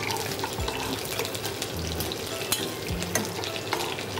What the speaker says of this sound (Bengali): আমাদের ব্রেডটা হালকা ভাজবো না, একটু বেশ কড়া করেই ভেজে নিতে হবে।